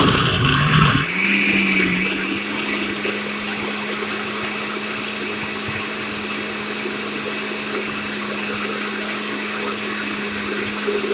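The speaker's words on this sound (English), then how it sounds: "I'm gonna cover my blender" After a brief knock, a blender spins up and whirs steadily for about ten seconds as it blends carrot, string bean and cucumber into juice, a moderate, unbroken drone.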